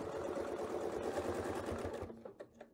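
A sewing machine stitches backward through a quilt's layers, a steady close mechanical whir that runs continuously for about two seconds, then stops and leaves a few faint clicks.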